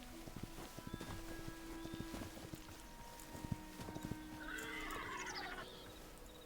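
Horse in the Hytale video game neighs and whinnies while its hooves clip-clop across flat ground, steady hoofbeats with a loud whinny rising near the end, no talking.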